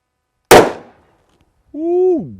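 A single loud .357 Magnum gunshot, a 162-grain cast hollow point fired into ballistics gel, cracks sharply and decays quickly, followed after a pause by a brief voiced exclamation.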